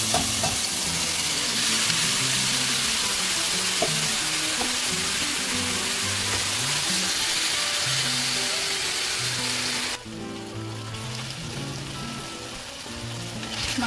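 Marinated mutton hits a pan of lightly browned chopped onions and fries with a loud, steady sizzle for the whole stretch, stirred now and then with scraping strokes; the sizzle quiets a little near the end.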